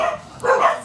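Dogs barking in reaction to weed whacking going on outside, a couple of short, fairly loud barks heard alone with no talking.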